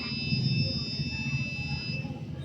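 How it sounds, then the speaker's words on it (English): Arduino flood monitoring system buzzer sounding steady high electronic tones at a warning level, continuous and fairly loud over low background noise. "the buzzer will start beeping"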